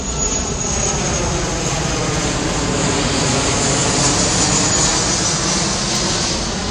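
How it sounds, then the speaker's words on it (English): An airplane passes overhead above a cemetery, a loud, steady, broad engine roar that swells slightly toward the end and fills the whole stretch with no voices over it. "This is a plane above us."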